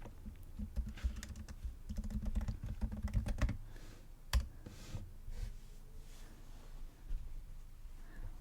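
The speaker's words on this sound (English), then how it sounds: "we're going to type in "we're hiring."" Rapid clicking of a computer keyboard as a short search query is typed, a dense burst of keystrokes followed by a few scattered taps, close and fairly quiet.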